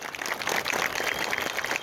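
Applause from family, friends and fans at a burial in the Parque dos Pinheiros cemetery, a steady wash of many hands clapping, moderately distant and continuous with no voices standing out.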